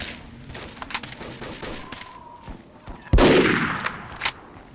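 Gunfire in the video game Übersoldier 2, a few sharp shots and one louder blast amid game ambience, fairly close and moderately loud.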